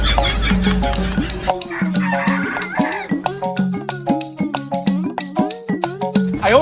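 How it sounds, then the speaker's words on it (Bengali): Chickens cluck repeatedly in short rhythmic bursts, close and loud, with a drawn-out rooster crow near the start. "এটা ঢাকায় মুরগি।"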